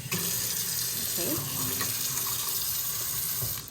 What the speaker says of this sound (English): it has this retractable handheld faucet